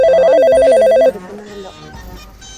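A phone ringtone trills loudly and rhythmically for about a second, then stops as a voice begins talking.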